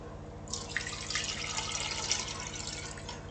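Water pours steadily from a tap into a kitchen vessel, a continuous close splashing stream with faint drips over a low electrical hum.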